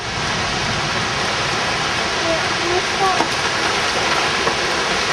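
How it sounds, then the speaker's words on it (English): Heavy cold rain pouring down in a storm with high winds and tornado warnings, a dense, steady hiss close by that continues without break. "It's a nice cold rain."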